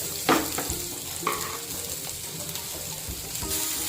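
Onions being added to a pan of hot oil seasoned with asafoetida, with a couple of sharp sizzling bursts and stirring scrapes over a steady low frying hiss, close and moderately loud, no voices.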